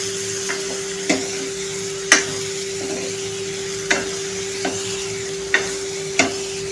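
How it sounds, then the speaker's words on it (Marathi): Stuffed ridge gourds frying in a pan with black masala and turmeric, a soft steady sizzle broken by sharp spatula scrapes and clinks about once a second, close and clear, with no voices. "आता हे दोडके फ्राय होतील, त्याच्यासोबतच आपण हा मसाला पण परतून घ्यायचा आहे छानपैकी"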